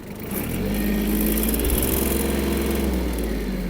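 Yanmar KE-50 mini tractor engine running steadily near at hand after warming up, a continuous loud low-pitched diesel drone with a slight swell partway through, no talking.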